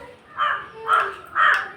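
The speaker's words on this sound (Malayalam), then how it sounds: "ഈ കാക്കയും കൊണ്ട് ഞാൻ തോറ്റു" A crow caws three times in quick succession, each harsh call fairly close and clear over a quiet background.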